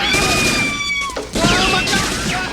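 A movie scene plays with bursts of gunfire mixed with loud, shouting voices, a dense and chaotic sound that stays close and loud throughout.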